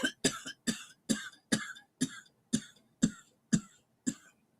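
Nine sharp coughs in a steady rhythm, each a short harsh burst close to the mic, with brief gaps between them and no talking.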